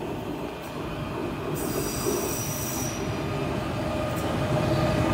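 A train runs through Den Haag Centraal station in April, its wheels squealing in long high-pitched screeches over a continuous rumble of rolling cars, loud and close with no talk.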